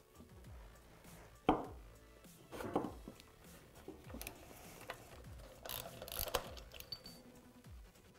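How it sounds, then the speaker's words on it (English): Metal tool clinks and ratcheting taps while a Tusk Honda bearing retainer tool works the bearing retainer loose on a Honda dirt bike wheel hub, a few sharp knocks among quieter scraping, no talk. "To do that, we'll use our Tusk Honda bearing retainer tool."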